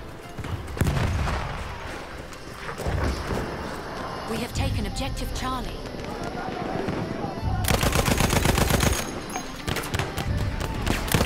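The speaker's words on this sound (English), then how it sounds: "he got me with that pistol" Rapid bursts of gunfire in the video game Battlefield 1, including pistol shots, with loud repeated shots, automatic fire and booms in dense clusters, and a person talking over parts of the action.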